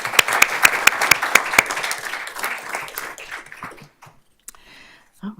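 Audience applause at a school board of trustees meeting honoring students, sharp claps loud at first, then thinning and fading to near silence by the end.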